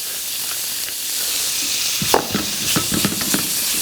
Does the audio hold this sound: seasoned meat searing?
yes